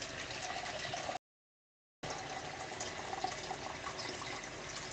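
Water pours steadily into a soup pot of greens, a soft continuous gushing fill that drops out completely for under a second before resuming at the same even level.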